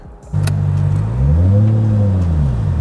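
A Nissan Skyline's RB engine cranks and catches, then settles into a loud, close idle before its note rises and falls through a steady rev, with no talk over it.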